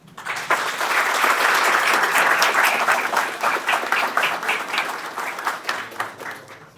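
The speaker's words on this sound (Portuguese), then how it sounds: "para quem eu peço um aplauso" An audience at a time capsule centenary ceremony for Diário de Pernambuco bursts into applause, swelling quickly to full crowd clapping, then thinning to scattered individual claps that fade out.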